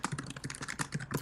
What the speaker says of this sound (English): Jesus Christ, Trevor, your typing is so loud